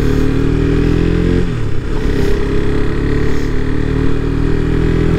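Motorcycle engine running loud and close while riding toward Pangong with failing brakes, a steady low throbbing drone with a brief dip and change in pitch partway through, no talk.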